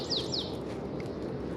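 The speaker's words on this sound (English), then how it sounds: "Birds are really loud too." Outdoor birds chirp from a porch, two quick high tweets near the start, then a steady background hum of open air with faint distant calls.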